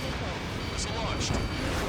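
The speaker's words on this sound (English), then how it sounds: "Missile launched." Missile launch in the jet combat game Ace Combat 7, a dense, sustained rumbling roar with a few sharper bursts near the end, loud and continuous across the whole moment.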